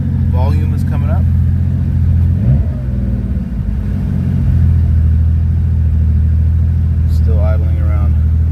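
Porsche 911 engine running at a high idle, a steady low rumbling drone held throughout, while people talk over it in bursts.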